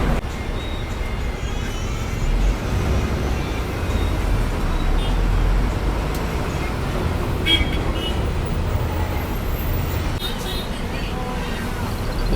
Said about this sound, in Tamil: இங்கே ரோடு ஒர்க்ஸ் நடக்கிறதுனால டிராஃபிக் பாருங்கள்